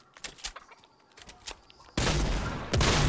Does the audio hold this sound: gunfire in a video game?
yes